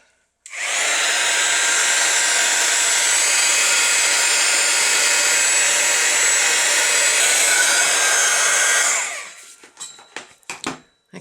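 A hair dryer or heat tool dries a handmade craft tag, giving a loud, steady whirring blast for about eight seconds before cutting off, followed by a few faint clicks and handling sounds.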